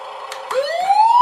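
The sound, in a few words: siren sound of a Huina 1/14 scale RC fire truck toy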